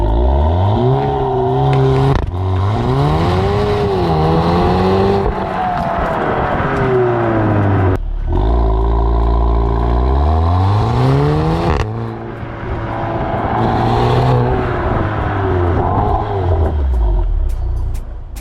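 An Audi TT Mk3 engine pulls hard in a launch control run, heard loud from inside the car, with rising revs broken by quick gear shifts into fresh climbing sweeps.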